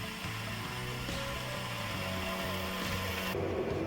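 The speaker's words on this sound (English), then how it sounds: "I can start to grind it to make it symmetrical and look nice" Grinding the pommel of a sword forged from a leaf spring: a steady, continuous abrasive grinder whine with a dense broadband rasp, loud and close, holding throughout before the tone shifts near the end.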